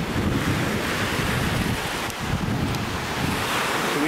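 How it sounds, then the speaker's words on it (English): Ocean surf rolling and breaking on a beach, a steady loud wash of waves with wind buffeting the microphone throughout, no voices. "Oh yeah, we got waves."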